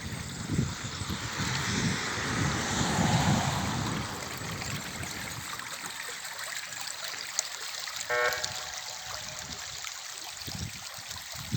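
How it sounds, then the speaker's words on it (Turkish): A small creek flows with a steady watery rush, louder in the first few seconds and then softer and trickling, with no talk. "Ondan sonra 11 bu dere su akıyor."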